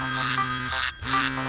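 A cell phone ringing in a courtroom, two repeated electronic ring bursts with a short pause between them, loud and close.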